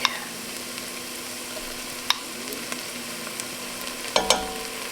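Garlic and onion frying in melted butter in a pot, a soft steady sizzle underlying a few sharp clinks and scrapes of a spoon, close by and moderate in level.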